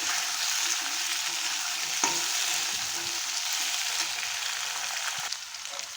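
Potato pieces, cut not too thin, fry in a pan with a steady, close hissing sizzle throughout, broken by a couple of light utensil knocks as they are stirred.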